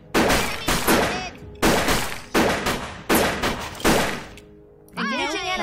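Gunfire in the video game UFO: Afterlight, a run of six loud, close bursts of shots spaced about a second apart, each ringing out briefly, followed by a warbling electronic sound at the end.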